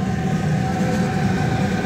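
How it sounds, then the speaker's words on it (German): A train rolls along elevated tracks above a quiet area, a loud, steady rumble with rail noise filling the whole stretch, no voices. "Der Zug kommt gerade"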